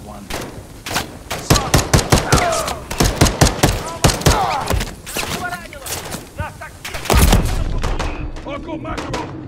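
Rapid gunfire in a Call of Duty Modern Warfare III campaign battle: loud, close bursts of automatic fire and single shots in quick irregular succession, with shouting voices mixed in and a heavy blast near the end.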